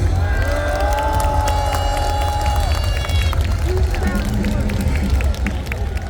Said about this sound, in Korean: 여러분 한 분 한 분 소개해 드릴 때마다 뜨거운 박수로 환영해 주시기 바랍니다